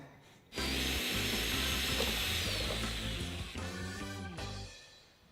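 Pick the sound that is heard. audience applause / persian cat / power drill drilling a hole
power drill drilling a hole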